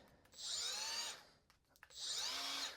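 Milwaukee 90-degree die grinder run by trigger at different speeds: two high, whining bursts each about three-quarters of a second long, pitch rising and falling with the trigger, a short quiet clicking gap between them.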